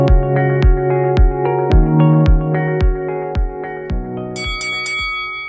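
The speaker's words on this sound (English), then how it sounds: "You heard the bell." A boxing ring bell clangs about ten times in a quick, steady rhythm, loud and close, each strike ringing on briefly before the next.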